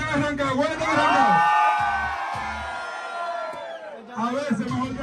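A crowd at a lively outdoor street event shouts and whoops, sustained loud yelling with voices rising and falling, mixed with talking close by.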